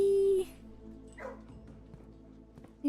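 Dog in the video game Blue Prince barking and whimpering, with short yips and whines at moderate level over quiet background game tones.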